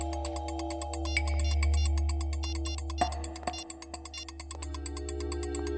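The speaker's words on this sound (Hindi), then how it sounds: "फोन लगाओ दया को।" A phone call rings out in a police drama scene as a steady, evenly pulsed electronic ringtone that repeats without pause over a low background hum, with no voices.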